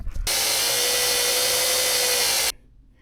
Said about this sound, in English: We're gonna drill that out.